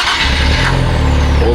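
A Nissan 400Z fitted with a single exit exhaust cold-starts up close, its engine catching and settling into a loud, steady, deep idle rumble.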